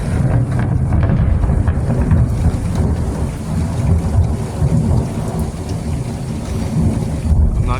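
Heavy thunder rumbling through a thunderstorm with rain pattering on surfaces, a loud continuous low roll up close, lasting throughout without speech.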